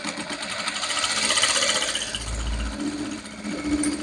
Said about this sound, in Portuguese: dobra, dobra e vem costurando, olha